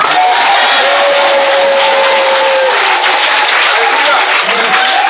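A church congregation claps and cheers loudly for Jesus Christ, a dense, steady wash of applause and crowd noise that fills the whole stretch, with a sustained voice running beneath it.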